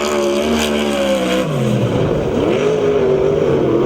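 A USAC/CRA sprint car at Perris, California, roars through a racing lap, its engine loud and close, pitch sweeping down as it lifts off and then climbing again under acceleration.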